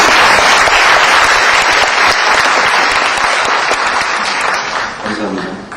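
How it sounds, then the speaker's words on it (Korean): Loud, sustained audience applause in a hall at the final round of a university debate competition, greeting an introduced professor, dense throughout and easing slightly at the end. "뜨거운 박수"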